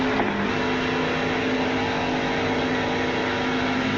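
Steady loud roar of a stock car engine at speed on an oval track in a Michigan race, constant and unbroken from start to finish.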